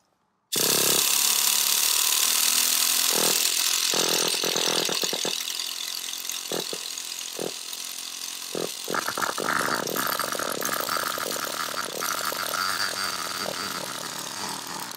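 A Traxxas Revo 3.3 nitro RC engine is primed and started, giving a loud, continuous buzzing rattle that carries on steadily for most of the stretch, with brief bursts and uneven sputters early on.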